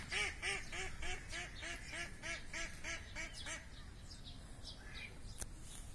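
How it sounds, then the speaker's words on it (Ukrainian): A drake and a duck quack in the city garden park in Kremenchuk, Ukraine, a rapid series of repeated nasal quacks close by, slowing and thinning out near the end over low background noise. "Селезень і качечка."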